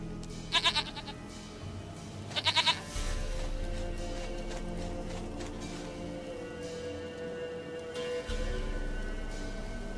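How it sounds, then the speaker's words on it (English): Goat bleating in the game Witcher 3, two short quavering bleats near the start and another cry around the eighth second over a steady low ambient game hum, no speech. "Goat of mine, dearest, sweetest goat."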